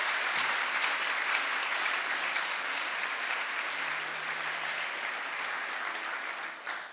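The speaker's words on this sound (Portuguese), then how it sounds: "Você pode aplaudir Jesus bem forte." A church congregation applauds loudly and steadily, a dense wash of clapping that holds for several seconds before tapering slightly at the end.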